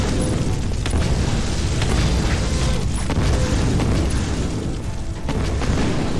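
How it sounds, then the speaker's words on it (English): Containers exploding in the game The Incredible Adventures of Van Helsing II, a loud, continuous barrage of booms and bursts layered with rumbling combat noise, dense and unbroken throughout. "Did I not let them containers explode?"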